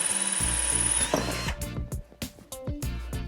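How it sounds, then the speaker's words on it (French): A power drill pre-drills a pilot hole in wood with a small bit, slightly under the screw's diameter, for reusing a headboard: a steady motor whine for about a second, then short bursts and stops, close up. "Pour prépercer, on prend un petit foret légèrement inférieur au diamètre de la vis"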